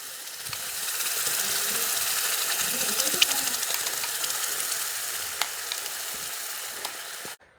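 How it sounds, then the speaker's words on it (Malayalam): Chili masala fries in hot oil for a Kerala-style fish curry, a steady close sizzle running almost the whole time with a few faint clicks of a spoon, alone without talk. "ഇനി ഈ മസാലയില്ലേ നല്ല പോലെ ഒന്ന് മൂത്ത് വരണം കേട്ടോ."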